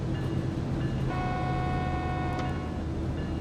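Slow intermodal freight train on Cajon Pass between San Bernardino and Hesperia in Train Sim World 3, a steady low rumble of engine and wheels with a sustained tonal whine and a faint horn-like tone partway through.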